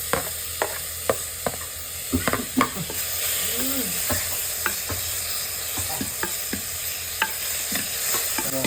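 Tomatoes fry and sizzle in a pan for a homemade fish curry, with a steady hiss broken by repeated scraping stirs and clinks of a spoon, close and fairly loud with no talk.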